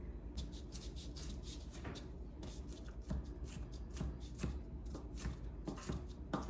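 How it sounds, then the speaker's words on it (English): Knife chopping onions and a shallot on a cutting board while cooking eggplant parmesan, a steady run of quick, close taps and crisp cuts. "I love to cook, but I hate chopping onions."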